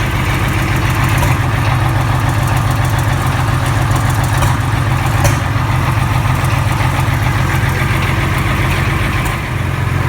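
An IH Farmall 560 tractor engine idles while warming up, a loud, close, steady low chugging with an even rhythmic knock that runs unbroken throughout, with no talking.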